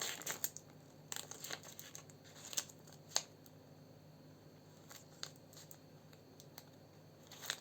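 A paper surprise packet being opened by hand, giving soft crinkling and tearing rustles with a few sharper crackles, close and fairly quiet, with no talking.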